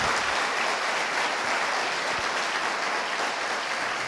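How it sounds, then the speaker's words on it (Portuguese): A church congregation claps loudly and steadily during a Sunday celebration service, a dense and sustained wash of applause with no pause from start to finish. "Aplauda o Senhor Jesus"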